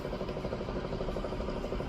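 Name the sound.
fully automatic washing machine starting its spin cycle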